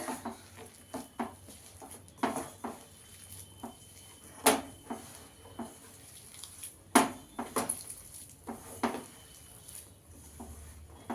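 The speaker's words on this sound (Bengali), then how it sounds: "এবার মেখে নেব, ভালো করে মেখে নিতে হবে।" Chopped vegetables and green chillies are squished and mixed by hand for veg manchurian, giving soft, irregular wet patters and clicks in a quiet kitchen.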